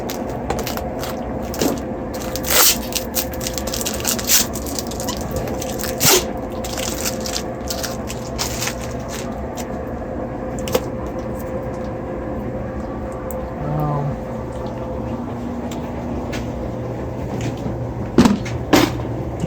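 Laundry machines run in the background on laundry day, a steady low mechanical hum with a constant tone, broken by scattered knocks and clatters at fairly even loudness throughout, with no talking.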